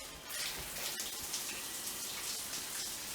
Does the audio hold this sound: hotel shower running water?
yes